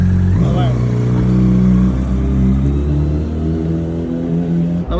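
A Honda CBR 600RR wrapped in RCB livery runs with a loud rumbling engine note that swells near the start and then settles, while people talk over it nearby.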